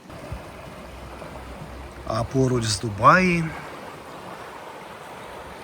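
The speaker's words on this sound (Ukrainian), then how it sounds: "Подивіться, річка. Річка Опір гірська, зараз дощі пройшли" The Opir, a mountain river in the Carpathians swollen after rain, makes a steady broadband rush throughout while someone speaks over it midway.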